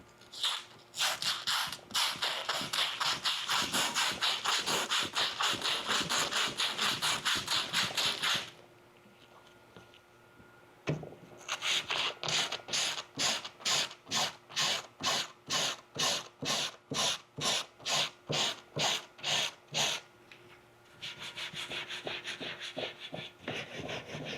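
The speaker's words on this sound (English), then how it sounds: "a small scale abrasion test with some 80 grit sandpaper" Rapid back-and-forth scraping of coarse 80 grit sandpaper on a hard DIY bedliner coating, first continuous, then in distinct rhythmic strokes, then a steady rub again.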